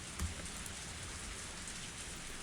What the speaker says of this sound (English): We could only keep running in the rain.